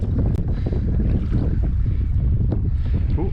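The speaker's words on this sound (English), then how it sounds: "Oh, that's a big wave." Wind-blown sea water slaps against a fishing kayak off the coast near Torness power plant, a steady rough wash of wind and waves close to the microphone with no talking.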